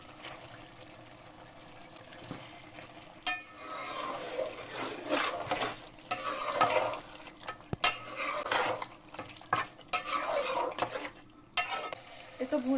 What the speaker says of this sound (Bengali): এখন আমি এই যে কেটে রাখা চর্বিগুলা দিয়ে ভালো করে কষিয়ে নেব